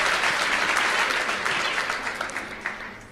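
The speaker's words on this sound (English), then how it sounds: "be so loud with your clapping" An audience at a TEDx salon event claps and applauds in a dense, continuous wash that stays loud and fairly even, easing slightly toward the end.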